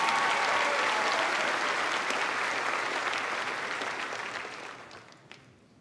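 Sustained applause from a large audience at a 2022 Collinsville High School graduation ceremony, loud and dense at first, then gradually thinning and fading out over the last seconds.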